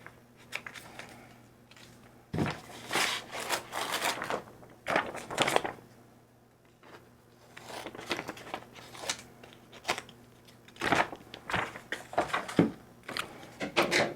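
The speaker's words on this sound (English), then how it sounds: "cut my vinyl. I'm just going to cut it down to where I already have some cut off" Scissors cutting heat transfer vinyl by hand for a Halloween koozie craft, a series of close, crisp snipping and crinkling bursts separated by short pauses.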